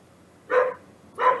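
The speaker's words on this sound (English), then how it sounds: "There's a barky dog next door." A dog next door gives two separate barks about half a second apart, mid-distance and moderately loud, with quiet background between them.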